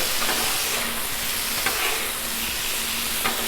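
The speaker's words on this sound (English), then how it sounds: "there's a little bit of water in there, so that's why you're getting all the sizzle" Peppers sizzling in olive oil and seasonings with a little water on a Blackstone griddle, a steady dense hiss with occasional spatula scrapes and stirs, close and continuous.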